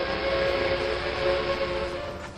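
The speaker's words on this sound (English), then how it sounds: "Traveling north out of Purcell, a double-engine train approached Edmond." A double-engine train approaches, heard as a loud, steady rumble with a sustained whistle-like tone held throughout, with no voices.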